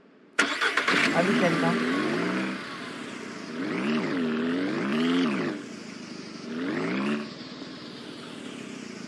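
A player's car in the Ranch Simulator game cranks and starts with a sharp burst, then drives off with a rising and falling mid-pitched engine hum that swells and fades in waves, with someone talking over it.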